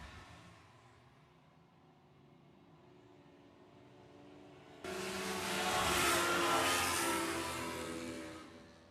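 Formula 1 racing hovercraft engines at a club race meeting, a low distant drone that suddenly swells into a loud, broad roar as a craft sweeps close past, then eases slightly.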